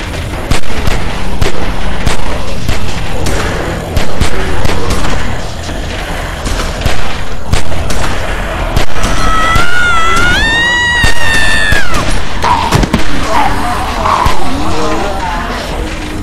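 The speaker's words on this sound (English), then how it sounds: "Shit! Keep shooting!" Rapid gunfire in The Walking Dead video game as survivors hold off a horde at a gate, loud dense bursts of shots layered over constant game noise and a rising whine, with no clear speech.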